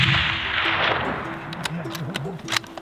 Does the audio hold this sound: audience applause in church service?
no